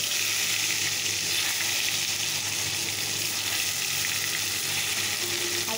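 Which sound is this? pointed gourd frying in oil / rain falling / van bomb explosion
pointed gourd frying in oil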